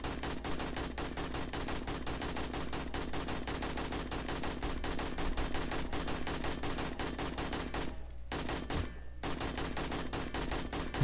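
Sustained rapid gunfire in the survival video game 7 Days to Die, dense automatic bursts rattling continuously and loudly with only two brief gaps, no talking heard.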